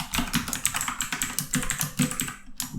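Rapid typing of code on a computer keyboard, a close, busy run of crisp key clicks with a brief pause just before the end.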